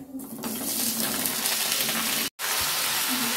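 Vegetables hitting hot oil with panch phoron spices and two dried red chillies, a loud continuous sizzle with stirring, briefly cut off for an instant before resuming, no voices present.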